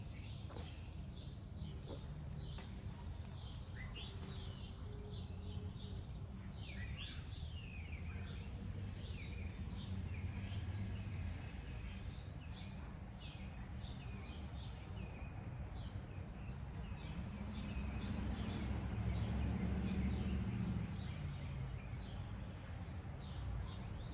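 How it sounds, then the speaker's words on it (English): Birds chirp and call outdoors in a steady scattered chorus of short tweets, fairly faint over a low background rumble, with no talking. "Birds are very awake."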